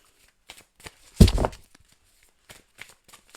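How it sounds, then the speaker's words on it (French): Tarot cards shuffled up close in one main burst of riffling and flicking, with a few soft card taps and handling sounds scattered before and after it, no voices. "on va voir dans le tirage. Allez, on est parti."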